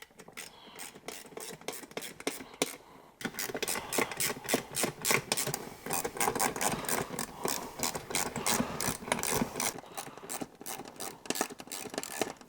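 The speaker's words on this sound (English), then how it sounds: "I'm going to use the Allen key we give you on the inside to hold it, and a 10mm socket on the outside." Steady run of rapid ratcheting clicks as a 10mm socket wrench tightens pannier mount bolts, an Allen key holding the inside, for Giant Loop RTW motorcycle panniers; close and fairly loud, with a brief pause before the clicking resumes more densely.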